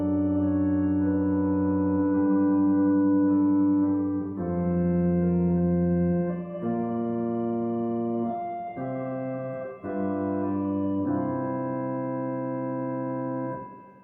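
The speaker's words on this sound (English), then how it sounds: "we could add some chords and change the rhythms to make it sound musical" A simple synthesized melody with added chords, sustained harmonic tones in steady rhythmic phrases, played alone at an even, moderate level.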